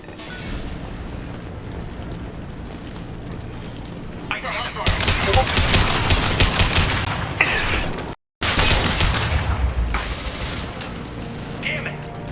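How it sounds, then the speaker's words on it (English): Dense, rapid gunfire and mechanical clatter from the video game Mass Effect Legendary Edition burst in partway through and keep going over a background of game ambience and voices. "The Blue Suns and Vorcha are shooting anything that moves."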